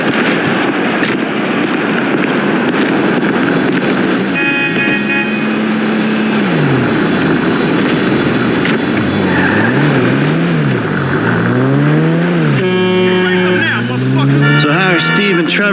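A car being driven in the video game GTA V, a steady engine drone with rising and falling revs as gears shift, running continuously beneath character dialogue and game effects.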